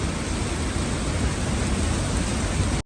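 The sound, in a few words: heavy rain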